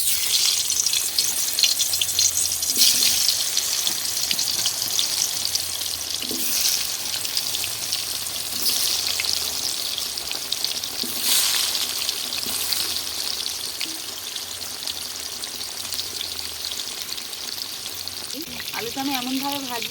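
Salted potatoes hit plenty of hot oil in a pan for Bengali aloo dum, giving a steady, close, hissing sizzle that runs the whole time, with a brief voice near the end.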